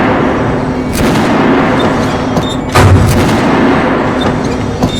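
A Kalash rifle fires in Metro 2033, with loud booming gunshot reports over a dense rumbling backdrop, a heavy blast standing out midway and a few sharper cracks.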